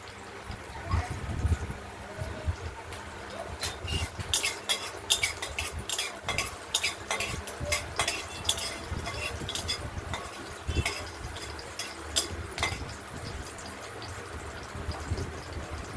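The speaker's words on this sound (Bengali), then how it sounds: "সর্ষে কাঁচা লঙ্কা ফোড়ন দিয়ে" Mustard seeds and green chili tempering in hot oil in a wok, a busy close clatter of a spatula scraping and stirring with soft sizzling and popping underneath, moderately loud, no voices.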